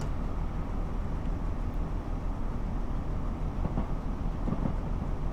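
A train runs along a rail route in the Train Sim World 6 video game, giving a steady, loud rolling rumble with faint wheel clicks and no gaps, with no voices.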